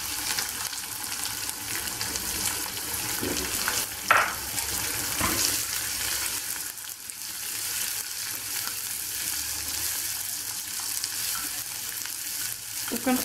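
Chopped onion and garlic fry in oil in a pot for lentil soup, a soft continuous sizzle with a few stirring clicks and scrapes, close but fairly quiet and without talking.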